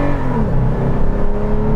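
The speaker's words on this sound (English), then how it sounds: "All right, I'm gonna give it a little gas here." A 2018 Toyota 4Runner TRD Pro engine revving under light throttle, a brief, loud and close mechanical drone with a slight rise in pitch and no voices.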